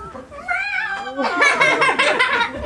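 A cat meows as a story sound effect, with a voice that seems to mimic the call, a short rising mew followed by a louder, busier cry blended with chuckling, close and clear.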